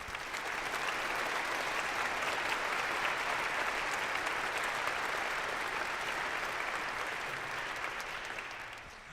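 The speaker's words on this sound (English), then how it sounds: "So a round of applause for them, please." Audience applause at a charity concert for Ukraine by a symphony orchestra: dense, steady clapping from a large crowd sustained at even loudness for about nine seconds, easing slightly at the end.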